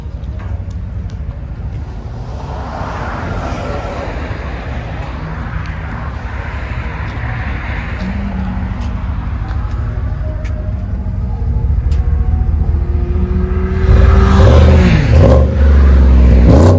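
A Chevy Silverado 1500 with a 5.3L V8 and an exhaust fitted with a resonator rumbles at a steady deep idle, then revs up louder toward the end, heard close by without talking.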